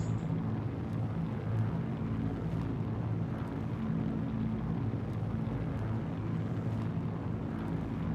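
Steady, low engine roar of a Drake Corsair ship at full throttle flying over mountains in the game Star Citizen, an even, continuous drone with no talk.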